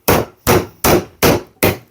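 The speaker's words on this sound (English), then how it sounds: "So we're going to take our chisel, try and hit that into the joint." Five evenly spaced, loud hammer blows drive a chisel into a joint in framing lumber to split it apart. Each sharp crack rings briefly and then fades, with no talking.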